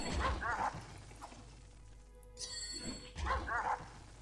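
Dogs in the Dungeon Siege video game yip and bark in two short bursts, fairly faint, separated by a quieter stretch of in-game sound.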